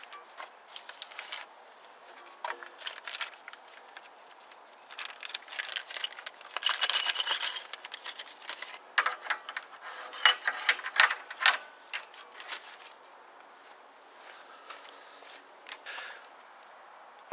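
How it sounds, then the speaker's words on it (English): Ratcheting belt tensioner worked on the loose engine belts of a 1969 Lincoln Mark III, rapid mechanical clicks and rattles in uneven bursts, growing busier mid-way then thinning out, close and fairly faint. "we're going to use the belt tensioner that one of our viewers sent us"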